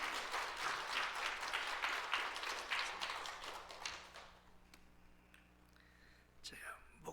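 A church congregation warmly claps to welcome the pastor to the front: full, busy applause for the first few seconds that thins out and fades, leaving a quiet room with a few soft taps and faint sounds near the end.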